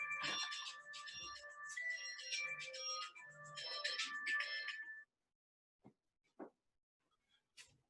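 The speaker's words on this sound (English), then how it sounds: "sometimes you get a phone call" A mobile phone ringtone plays in repeated melodic bursts for several seconds, then stops, followed by a few faint knocks and rustles.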